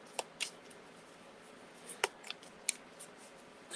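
Tarot-style cards shuffled for a live card reading, soft papery riffles and scattered crisp snaps and ticks over a quiet room hiss, close and faint, no talking.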